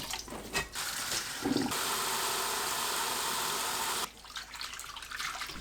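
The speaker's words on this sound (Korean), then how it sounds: "5분 후 두세 번 헹굽니다." Stonecrop greens being rinsed after a five-minute soak in three litres of water with a spoonful of vinegar: a steady rush of running water lasts a few seconds, then cuts off to quieter splashing and handling.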